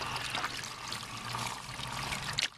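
Water sloshing and trickling in a gold pan fitted with a classifier on top, a steady close wet swishing and dribbling that continues with a brief splash near the end.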